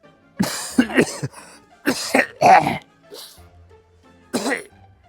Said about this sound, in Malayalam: രാവിലെ മുതൽ ഒരു ചുമ